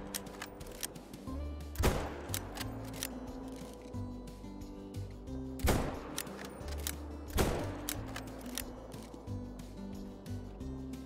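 Rifle shots ring out in a bear-hunting video game, three sharp cracks spaced a few seconds apart over a busy layered game soundscape, fairly loud and close.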